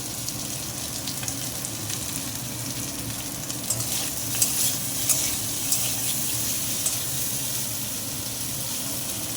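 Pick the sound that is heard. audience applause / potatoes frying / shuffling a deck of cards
potatoes frying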